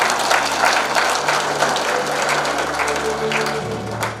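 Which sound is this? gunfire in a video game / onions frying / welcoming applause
welcoming applause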